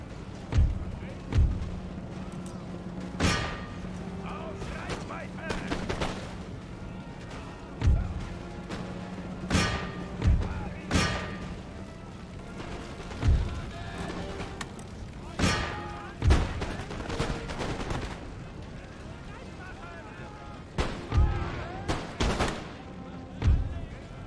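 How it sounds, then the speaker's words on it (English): Canister shot fired by artillery in Empire: Total War, heavy cannon booms going off irregularly every second or few seconds over a constant battlefield din, some shots landing in quick pairs, with someone talking intermittently underneath. "we're going to use canister to shoot those"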